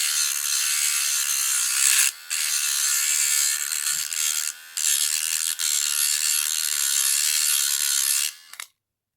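Rust is scrubbed off the shank of a Sakuma Manta 4/0 fishing hook with a bright, hissing abrasive sound that runs steadily up close, broken by a few brief pauses before stopping.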